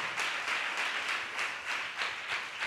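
Church congregation clapping in praise during a sermon, a steady wash of many hands with gentle swells, continuous throughout and fairly loud, with no voices over it.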